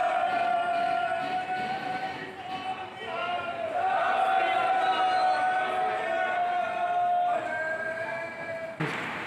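The Sachkhand Express pulls away from Nanded station, a steady mechanical rumble with a sustained tonal whine, under a crowd and voices on the platform.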